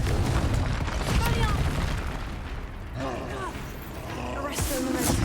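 Confringo fire blast spell detonating in the Hogwarts Legacy video game, a dense booming, roaring burst of noise that rolls on for several seconds with a voice heard over it and a sharp crack near the end.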